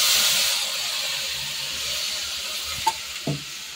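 Dried red chillies, nigella seeds and ground spices sizzle in hot oil in a kadai, a steady close hiss with a couple of brief sharper pops near the end and no talk.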